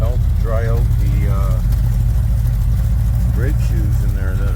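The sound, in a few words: RV engine idling in reverse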